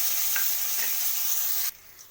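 Chopped onion and green chilli hit hot oil with a loud, steady hiss of frying that cuts off abruptly near the end, heard up close for a fish-head and ash gourd dish.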